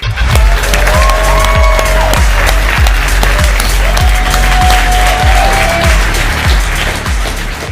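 Audience applause greets a presenter at a Robinhood tech showcase, loud continuous clapping over a pulsing music beat with steady low thumps, carrying on for several seconds with no talking.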